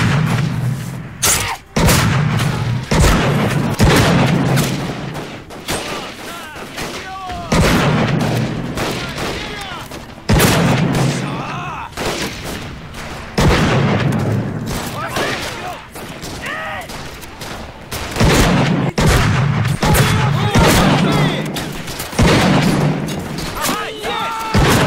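Rapid bursts of gunfire and booming explosions in Medal of Honor: Pacific Assault repeat loudly in waves, with excited voices shouting in Russian over the shooting.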